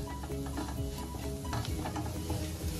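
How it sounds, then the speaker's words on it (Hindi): Spice masala roasting in a pan over a low flame for kadai paneer, giving a steady close sizzle with scraping stir strokes throughout and no talking. "अब लो फ्लेम पे से हम 30 सेकंड तक भूनेंगे।"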